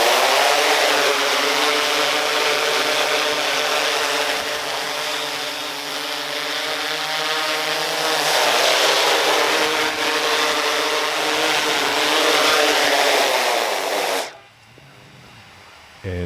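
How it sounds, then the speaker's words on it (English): DJI Inspire 2 drone on stock propellers spinning up and lifting off, a steady loud whirring buzz with harmonic hum that swells and settles before cutting off abruptly near the end. "here's the sound of the startup and takeoff of the stock props"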